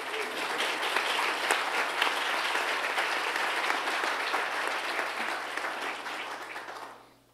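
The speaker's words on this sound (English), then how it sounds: "Let me just clap more for that." Audience applause at a talk, a sustained wash of many people clapping at moderate volume, steady for about seven seconds before dropping away abruptly.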